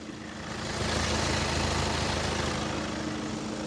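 A 2015 Kia Sorento 2.2 diesel engine idles steadily, a continuous low rumble with a slight rise in loudness early on, close by and with no talking.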